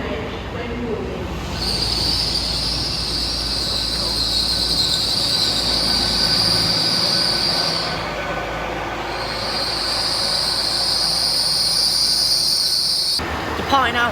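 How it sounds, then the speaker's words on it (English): A train pulls out of a station platform with a continuous rumble and long, loud wheel squeals that pause and then resume, with no talking. "Departing out over there is 1 Charlie 92, the Hind, departing off platform 5 due to 24 minutes of delay."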